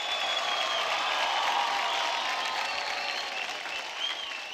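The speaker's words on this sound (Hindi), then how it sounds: "मैं शराफत जी के लिए जोरदार तालियां मांग रहा हूँ" Studio audience applause and cheering for a tabla player on a televised singing competition, a broad sustained roar of clapping with some tonal musical elements underneath.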